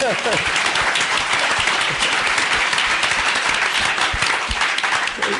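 An audience at a Defcon 20 live show breaks into sustained applause, a dense steady wash of many hands clapping throughout, with voices and cheers mixed in underneath.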